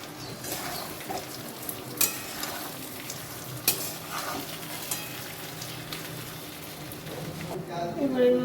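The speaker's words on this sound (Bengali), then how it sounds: "আবারও ভালোভাবে মিশিয়ে নিচ্ছি।" Spice mix for a Bengali fish head curry made with katla fish head is stirred and fried in a pan, a steady soft sizzle with a couple of sharp spoon knocks, heard up close.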